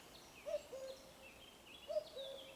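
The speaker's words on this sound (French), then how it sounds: "le hibou me dit coucou" Owl hooting at a moderate distance, two separate hoots spaced about a second and a half apart, each a short rising note followed by a longer steady tone, over a quiet background.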